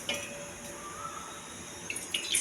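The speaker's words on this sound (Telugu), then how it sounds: "ఒక గ్లాసు వాటర్ వేసుకోవాలి." Water poured from a glass into a cooking bowl while preparing a carrot fry, a soft steady trickle and splash close by with faint clinks of the vessel near the end.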